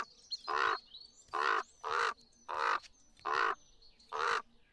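A Chihuahuan raven in the Wingspan board video game gives six harsh, evenly spaced croaking caws, clear and close against a quiet background.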